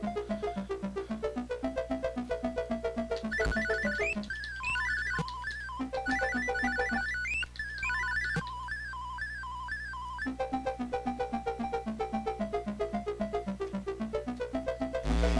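Atari 7800 game audio plays as a looping run of beeping chiptune tones, with a busier, higher-pitched melodic section in the middle, steady and fairly faint with no voices.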